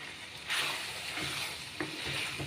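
Chicken with mutton masala sizzles steadily in a pan while it is stirred up close, and a couple of scraping knocks stand out over the frying hiss.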